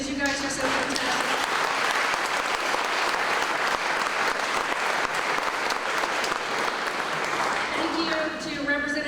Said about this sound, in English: can we give one more round of applause for all of our award winners